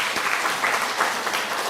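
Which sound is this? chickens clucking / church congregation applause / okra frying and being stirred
church congregation applause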